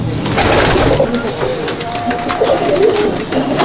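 Low, continuous cooing from pigeons in a pigeon loft in Jangipur, Murshidabad, with someone talking over the birds throughout.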